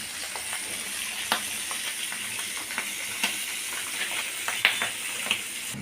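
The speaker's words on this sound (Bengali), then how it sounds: "আজকে বুটের ডাল একটু আলু দিব। এটা অনেক ফুটতেছে" A pot of chickpea dal with potato at a hard boil, steady bubbling hiss with scattered pops and crackles, close and fairly loud, no talking.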